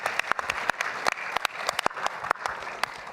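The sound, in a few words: audience applause after a pitch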